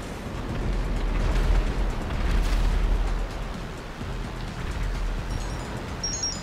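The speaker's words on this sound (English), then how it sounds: "Most of the time, I just shoot them until they explode" An aircraft explodes under gunfire over Los Santos in GTA 5, giving a heavy, rumbling blast that swells for a few seconds and then slowly fades into a low roar.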